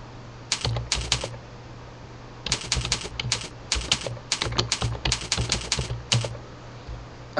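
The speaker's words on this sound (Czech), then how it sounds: "napíšeme jméno animace." Bursts of quick clicking keystrokes on a computer keyboard in irregular runs with short pauses, close and clear over a low steady hum, with no talk.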